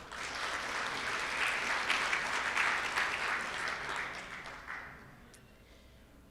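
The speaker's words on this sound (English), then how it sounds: "let's wish all of our members a happy birthday and give them all a round of applause" A room of Rotary Club members at a meeting gives a sustained round of applause for birthdays, a dense and even burst of clapping that fades away over the last couple of seconds.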